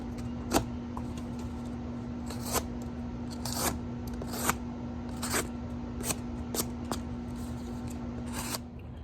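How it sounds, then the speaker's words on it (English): A thin-bladed hard-use knife makes draw cuts through material, a series of short, crisp slicing rasps spaced irregularly over a steady low hum, fairly faint and close, with no talking. "These draw cuts are excellent. You can do swirly draw cuts, straight draw cuts, anything you want."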